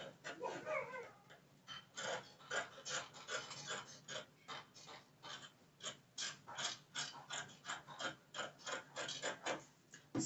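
Scissors cut through lace fabric for a gown yoke, a close, quiet run of rhythmic snipping clicks repeating steadily alone.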